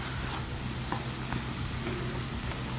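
Steady sizzling and crackling of vegetables frying in a covered pan, a continuous close hiss with faint scattered pops and no voices.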